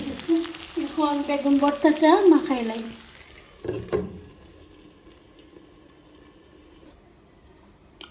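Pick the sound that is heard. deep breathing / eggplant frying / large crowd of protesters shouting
eggplant frying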